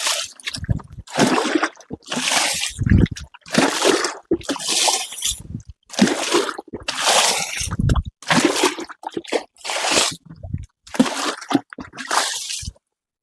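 Water poured by hand into the middle of a banana field between plants, coming in repeated splashing, sloshing bursts of about a second each with short gaps, close and fairly loud, no talk.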